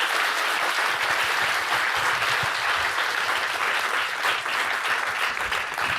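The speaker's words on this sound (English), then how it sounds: "please give a round of a big applause to our panelists today" An audience applauds panelists at a startup founders' event, a full, even wash of clapping that stays strong and continuous for the whole stretch.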